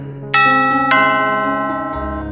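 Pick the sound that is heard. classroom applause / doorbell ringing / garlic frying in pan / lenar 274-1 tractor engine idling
doorbell ringing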